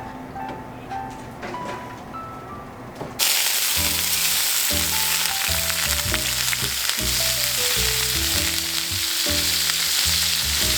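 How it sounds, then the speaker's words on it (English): Oil hits a smoking-hot cast iron pan and erupts into loud, steady sizzling that continues under intermittent clanks of a utensil, after a quieter stretch of music and kitchen sounds. "I'm going to use my cast iron pan. It's smoking hot right now, so I'm just going to put some oil"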